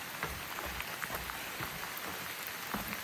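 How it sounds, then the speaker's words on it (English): Heavy rain pours down on a mountain trail near Bluff Mountain, a dense, continuous hiss of drops hitting surfaces, steady and loud with no voices. "A lot of rain."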